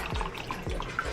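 Tap water runs into a plastic shaker bottle, a close, continuous gurgling flow with small drips and splashes.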